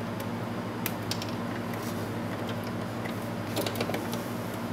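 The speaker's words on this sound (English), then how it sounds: "So on the sewing machine, I'm going to start at the top of the dart." A sewing machine runs steadily while stitching a dart at the top of a fitted skirt, giving a continuous mechanical hum with faint ticking and no talk over it.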